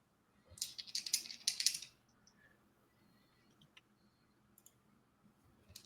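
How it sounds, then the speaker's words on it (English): Dice tumble and clatter across a tabletop in a quick burst of sharp clicks and rattles, followed by sparse, faint ticks in a quiet room. "I just heard some dice hit the table"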